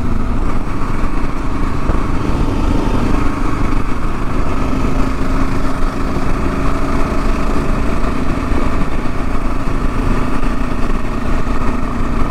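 A Gen 3 Kawasaki KLR motorcycle riding along a mountain road produces a steady, close engine drone with little change in pitch, heard alone without talk.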